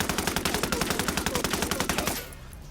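A 9x19 VSN submachine gun fires one long continuous automatic burst in the game Ghost Recon Wildlands, rapid, loud and evenly spaced shots, then it stops abruptly with a short tail.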